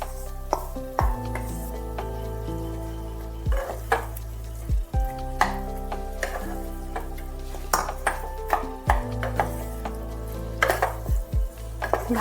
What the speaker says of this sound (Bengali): এবার দিয়ে দিচ্ছি ধুয়ে রাখা ডালিয়াটা।